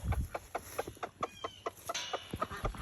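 Chickens cluck in a coop while pecking at chickweed treats scattered among them: a busy, close flock making repeated short clucks and calls in an uneven rhythm.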